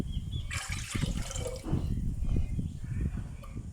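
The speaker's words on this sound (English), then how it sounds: "So we're going to use coconut milk, 1 can of coconut milk, and a couple of cups of water we'll add into this one." Coconut milk and water pour into a soup pot, a close liquid splashing and gurgling that starts abruptly and continues in uneven glugs.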